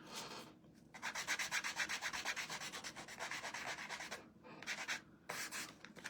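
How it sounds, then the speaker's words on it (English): Steady back-and-forth rasp of sandpaper rubbed by hand over wood, close up, in rhythmic strokes with a couple of short pauses. "Okay, I'm sanding."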